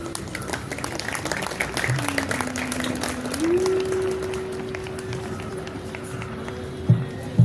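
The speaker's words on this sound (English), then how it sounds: "Let's give a thunderous round of applause for the winners and every single person who made this possible." Applause for the winners at St. Ursula's school sports day, a crowd clapping steadily outdoors under a sustained tone, with a couple of sharp louder knocks near the end and some voices mixed in.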